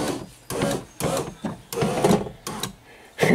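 A Silhouette's power window motor whirs in repeated short bursts, loud and close, each run starting and stopping abruptly with brief pauses between, and no voices.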